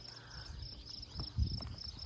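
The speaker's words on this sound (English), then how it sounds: "the crickets are starting to chirp out here, just in time for our visit" Steady high-pitched cricket chirping outdoors, continuous in the background, with faint rustling and a low thump partway through.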